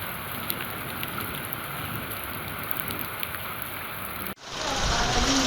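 Untimely rain falling in Kalaburagi district, a steady, dense hiss of rainfall close by that cuts out briefly near the end before a louder, rougher wash of rain or wind returns.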